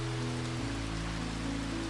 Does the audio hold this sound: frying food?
no